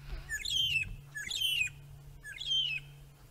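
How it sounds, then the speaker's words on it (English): Three separate shrill, descending calls of a red-billed hornbill repeat about once a second, clear and fairly close over a faint low hum. "there it is, the red-billed hornbill."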